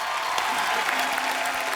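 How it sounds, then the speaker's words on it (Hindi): A studio audience at a comedy show claps in a dense, steady burst of applause that fills the whole moment, fairly close and even in loudness. "एक बार गौहर और राजीव खंडेलवाल के लिए जोरदार तालियां हो जाएं।"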